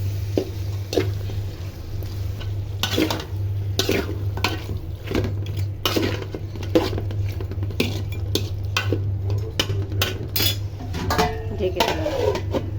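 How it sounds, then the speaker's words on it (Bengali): Chicken pieces are stirred and sautéed in a spiced pan, with a metal spoon scraping and clinking against the pan in irregular bursts over a steady low hum and a soft sizzle. "এবারে মাংসগুলো দিয়ে দিচ্ছি। এবার কষিয়ে নিচ্ছি।"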